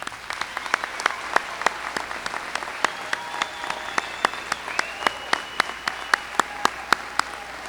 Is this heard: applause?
yes